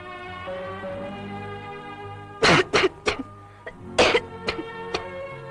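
Coughing and throat clearing in a Tamil film scene: after a quiet stretch, a burst of several harsh, close coughs, then a pause and a second cluster of loud coughs trailing off into smaller hacks.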